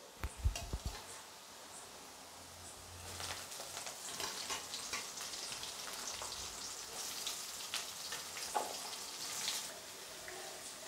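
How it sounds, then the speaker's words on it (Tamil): Onions cook in hot oil for a fish curry, a continuous close sizzle with scattered crackles and occasional stirring scrapes, moderately loud and without any voice. "வெங்காயம் சேர்த்து நன்கு வதக்குவோம், பொன்னிறமாக வதக்குவோம்."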